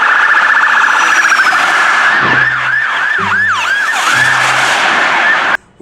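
A toy police car plays a loud electronic wailing siren up close, with sweeping yelps and low beeping tones before it cuts off abruptly.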